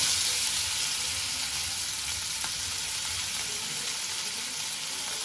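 Fish pieces coated in finely ground masala sizzle and fry steadily in a pan, a continuous close crackling hiss with no talking.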